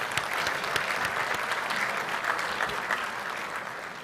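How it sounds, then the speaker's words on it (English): Steady applause from a lunch audience fills the room, a dense continuous round of clapping at moderate level with no pauses and no talk. "So if you could give yourselves a round of applause"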